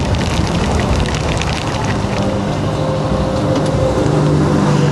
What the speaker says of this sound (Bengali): বৃষ্টি শুরু হয়ে গেছে অলরেডি